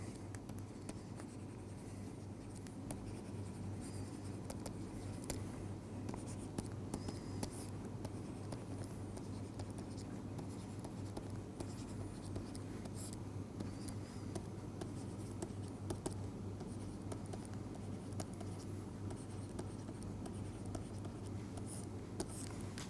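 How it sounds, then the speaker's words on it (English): Two square matrices being written by hand during a matrix algebra lecture: faint, steady pen-stroke scratching that continues for a long stretch without talk. "let me write two square matrices"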